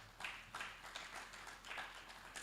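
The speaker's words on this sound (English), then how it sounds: "A round of applause to him as he makes his way" Conference audience clapping for a speaker walking up at an energy sustainability event, a faint, distant patter of hands with a few louder bursts and no talking over it.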